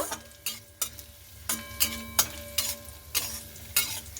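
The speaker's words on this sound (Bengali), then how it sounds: "কাজু কিশমিশটাকে হালকা করে ভেজে নেব" Cashews and raisins fry in ghee in a pan while a spoon stirs them, sharp scraping strokes arriving every half second or so over a quiet, steady sizzle, close and clear with no talking.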